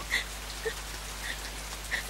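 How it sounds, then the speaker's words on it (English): Rain sound effect on stage in a musical, a soft steady patter with a few distinct drips, quiet and even under a low hum. "I let the rain fall."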